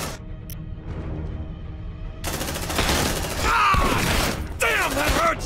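Marines' weapons firing in the Aliens: Dark Descent video game: a quiet stretch gives way to loud, sustained bursts of rapid gunfire with booms and whining creature or effect sounds layered over it.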